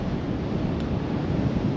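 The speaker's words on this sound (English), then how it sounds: "The only thing you can hear is just the waves crashing." Ocean waves crash at Whatipu caves in New Zealand at high tide, a loud, steady, wind-buffeted roar of surf close by with no voices.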